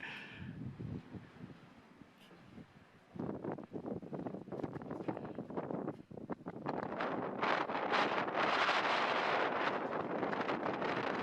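Gusty wind buffeting the microphone on an exposed house roof under construction, a rough roaring rush that eases briefly, then builds louder and steadier through the end, with no talking.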